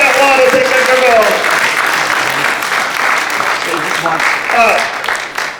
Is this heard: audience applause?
yes